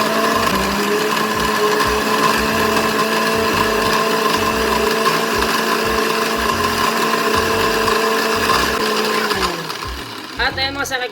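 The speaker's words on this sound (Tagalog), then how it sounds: "Blender muna natin para mapino siya." A blender chopping malunggay leaves with water whirs loudly and steadily for about nine seconds with a pulsing low rumble, then winds down near the end.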